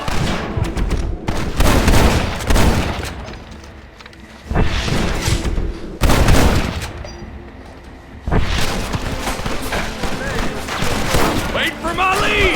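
A shootout in Red Dead Redemption, with dense gunfire: rapid volleys of shots and booms layered over each other for the whole stretch, loud and near, under shouted voices.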